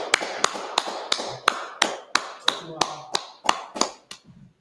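Rhythmic hand clapping with sharp, evenly spaced claps, about a dozen in steady tempo at a gospel-style performance, loud and close with a voice underneath.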